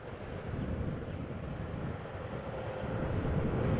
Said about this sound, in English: With the heavy in the background taxiing